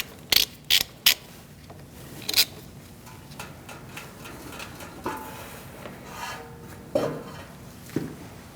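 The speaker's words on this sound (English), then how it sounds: "caliper using an 11mm socket. Undo this bolt." A ratchet with an 11mm socket loosening a brake caliper bolt on a 2016-2019 Chevrolet Cruze: a few sharp clicking ratchet strokes up front, then quieter scattered clicks and metallic clanks, close by.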